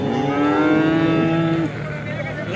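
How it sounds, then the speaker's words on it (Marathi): At the cattle market in Alephata, a domestic cow gives one long, loud moo lasting over a second. The call stops abruptly, then quiet market ambience follows. "आपण पाहू शकता शेतकरी बांधवाची गाई आहे."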